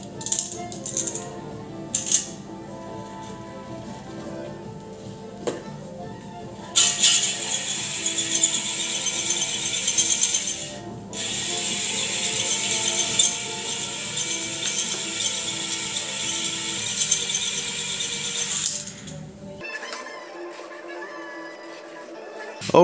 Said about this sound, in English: We're gonna chuck that in our drill here and just lightly hone all the cylinders to remove all these impurities on the surface.